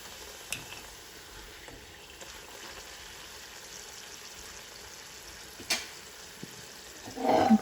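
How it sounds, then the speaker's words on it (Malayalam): Masala poori deep-fry in hot oil with a faint, steady sizzle and a few brief clinks. The bubbling grows louder near the end, and no one speaks. "ഫ്രൈ ആയി വരുമ്പോൾ അപ്പോൾ നമുക്ക് പെട്ടെന്ന് പെട്ടെന്ന് നമ്മുടെ പൂരി ഫ്രൈ ചെയ്ത് മാറ്റാം"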